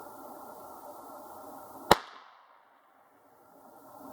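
A single sharp shot from a Mossberg International 817 rifle in 17 HMR cracks over steady background noise, followed by a short fading echo and then near quiet.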